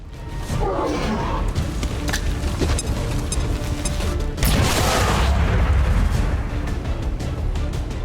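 A grenade goes off in XCOM 2, a heavy boom with a burst of crackling debris near the middle, set among rumbling battle ambience and scattered smaller impacts.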